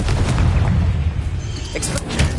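A Confringo fire spell explodes in the Hogwarts Legacy video game, a loud deep boom with rumbling low-end roar filling the short burst, followed by crackling debris-like bursts.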